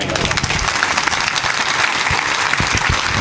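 A student audience at a college event breaks into applause, a dense, loud burst of many hands clapping at once, sustained through the moment with crowd noise mixed in.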